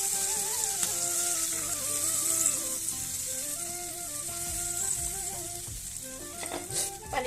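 Water poured into a pan of fried onions and ou tenga (elephant apple) sets off a steady close sizzle and bubbling hiss, with a few light clinks toward the end.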